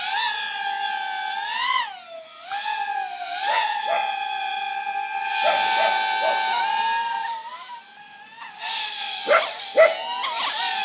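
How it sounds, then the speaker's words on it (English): A dog barks several times in the distance beneath the loud, wavering high-pitched whine of a DJI Avata 360 drone. "So despite all the dog barking"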